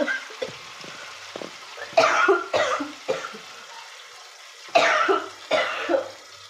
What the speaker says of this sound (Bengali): একটু কাশি হচ্ছে।